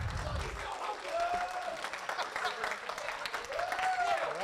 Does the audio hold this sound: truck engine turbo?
no